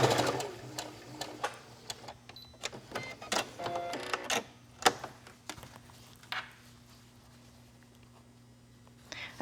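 Sewing machine stay stitching a quarter inch from a wrap dress bodice edge, quick mechanical rattling bursts that start and stop several times, quiet and close, with pauses between runs.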